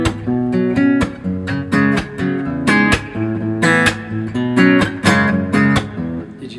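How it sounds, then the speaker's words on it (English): Acoustic guitar plays the final intro measure of a song in a live acoustic style, a busy run of picked notes and chords in a steady, driving rhythm, close and fairly loud with no voice. "So this is the last measure of the intro."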